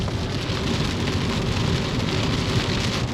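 Heavy rain drums steadily on a moving car, a dense, loud, unbroken patter from inside the vehicle, with no talking.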